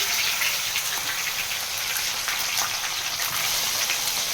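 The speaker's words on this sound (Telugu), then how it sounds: "ఇట్లా ప్యాన్ పెట్టుకొని మంచిగా నూనె గరం అయినాక ఇట్లా కాకరకాయలు వేసుకోవాలి." Bitter gourd pieces fry in hot oil in a pan, giving a steady, close, loud sizzle with scattered pops, and no one talking.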